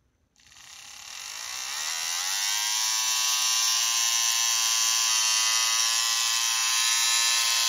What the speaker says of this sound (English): Let's just power up that motor real quick and make sure that's all working.